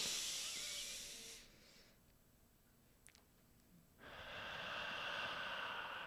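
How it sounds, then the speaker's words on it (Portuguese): Deep breathing exercise: a long, airy exhale hiss fades into a quiet pause of a couple of seconds, then a new strong rush of breath starts up and holds steadily, close and clear. "um exercício simples para você aumentar a sua respiração"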